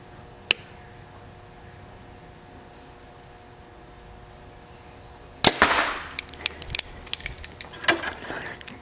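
A compound bow, a Mathews VXR 28 or Prime Black 1 fitted with a front stabilizer and shot with a hinge release, gives a sharp snap early on, then later a louder crack followed by a scatter of clicks and rattles.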